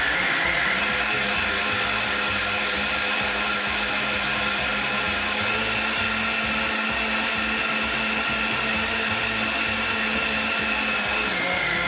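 A blender with its lid on mixes a vegetarian bodybuilding meal, giving a loud steady motor whir that holds without a break throughout.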